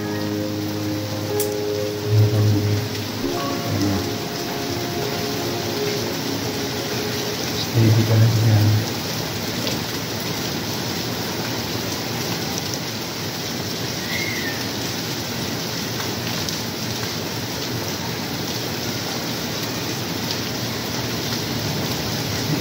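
Heavy rain pours steadily in Saudi Arabia, a dense continuous hiss throughout, with two short bursts of a low tonal hum and a brief voice speaking over the downpour.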